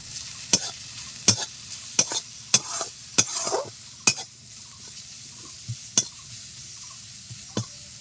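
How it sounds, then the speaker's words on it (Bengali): Chopped onion and nigella seeds frying in a pan for a pumpkin-flower dish, with a steady soft sizzle broken by about nine sharp, evenly spaced scrapes and knocks as a spoon stirs against the pan. "পেঁয়াজ কুচি দেওয়ার পর আমি দু মিনিট মতো নেড়ে নিলাম এখন দিয়ে দিচ্ছি কালো জিরে"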